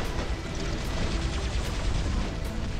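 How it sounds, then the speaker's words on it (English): Robot weapons fire in War Robots, a steady, dense stream of gunfire with heavy low rumble that runs without a break and fairly loud, with a few sharper bursts standing out. "Alright, taking a few shots here."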